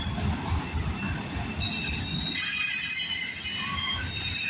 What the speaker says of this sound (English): we finally got a CP train tonight